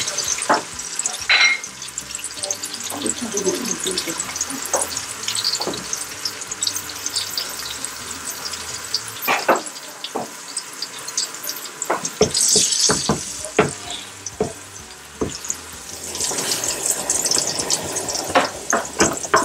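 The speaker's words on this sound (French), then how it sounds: "Après ça va chauffer l'huile, on met des oignons." Onions frying in hot oil with salt: steady sizzling and crackling, stirred now and then with sharp utensil knocks, plus some running water close by, continuing for about twenty seconds.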